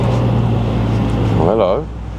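A Lotus Emira with an inline-four engine drones steadily at low pitch throughout, with a brief, wavering voice-like tone rising over it near the end.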